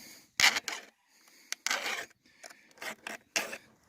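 A hand file sharpening chainsaw chain teeth, heard as short rasping strokes repeated in an irregular rhythm, close and fairly faint with brief pauses between the pushes.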